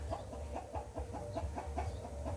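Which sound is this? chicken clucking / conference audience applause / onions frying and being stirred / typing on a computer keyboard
chicken clucking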